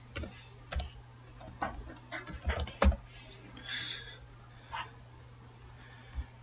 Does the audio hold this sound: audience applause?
no